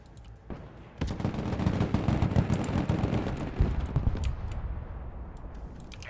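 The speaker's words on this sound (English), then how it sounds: "M1 Abrams ready for action. Shoot that target, gunner." An M1 Abrams tank gunner opens fire in the Broken Arrow video game, a heavy burst of rapid gunfire starting abruptly and rattling on loudly for several seconds before trailing off into a fading rumble.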